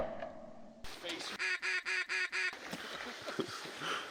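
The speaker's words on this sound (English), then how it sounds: "That's gonna be a lot of quacking right there." Ducks quacking during a Kansas public-land duck hunt: a rapid run of six evenly spaced, loud, nasal quacks, likely a duck call, followed by softer scattered calls and faint voices.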